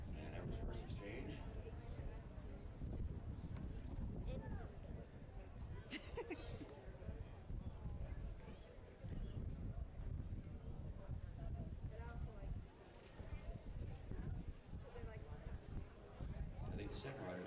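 Horses galloping in a relay ride exchange at a fair, hoof clatter continuous and fairly close beneath steady crowd noise and announcer talk throughout.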